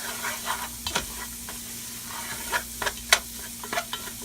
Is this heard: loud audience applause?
no